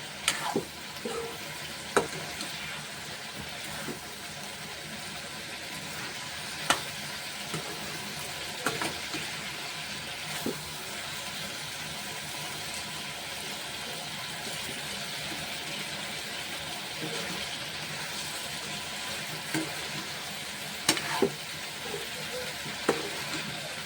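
Flat beans (shim) fry in a pan with a continuous moderate sizzle, and scattered clicks and scrapes of stirring rise above it now and then.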